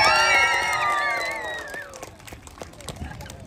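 A crowd cheers and applauds at a juggling show in Auckland, a loud burst of shouts and whoops with whistly voices that fades over a few seconds into scattered clapping.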